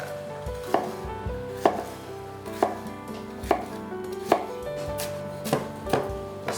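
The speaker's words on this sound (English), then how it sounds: "Cut the bell pepper right down the middle. Take out the seeds and stems. And then just cut nice slices." A knife slices through bell pepper onto a cutting board in steady, evenly spaced chops, roughly one firm thunk every second. The chops are close and clear, with no talking.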